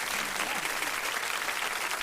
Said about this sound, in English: round of applause for all of y'all